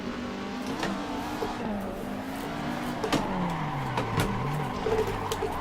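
A low-power car drifts in the Assetto Corsa racing game, its engine droning and rising and falling in pitch with revs, short tire squeals cutting in near the end, all continuous and close.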